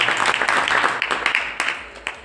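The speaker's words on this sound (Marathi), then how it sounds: "भक्त मंडळ इथून टाळ्या वाजून त्यांचं स्वागत करा" Devotees at a religious discourse clap together to welcome arriving guests, a steady wash of moderately loud hand claps with a few sharper accents toward the end.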